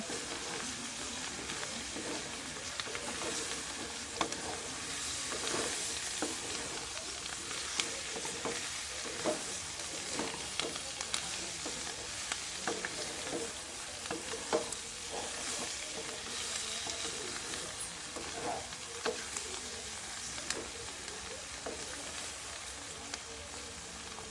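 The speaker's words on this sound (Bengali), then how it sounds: "আবারও একটু ভালো করে নাড়াচাড়া করে নেব।" Potato and cauliflower curry frying in a pan while being stirred, a soft ongoing sizzle with intermittent scraping and clinks of the spoon against the pan, fairly faint and steady throughout.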